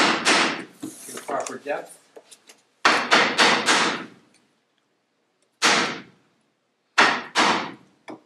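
A chisel chops into wood while building a Townsend document chest, with bursts of sharp, close percussive strikes in quick clusters separated by pauses, someone talking briefly between them.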